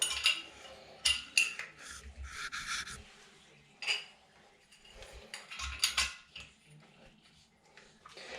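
Plastic cover plates snapped onto the hinges of a top-fixing toilet seat, several sharp clicks and clatters in uneven bursts with quieter handling between, close up and without talk.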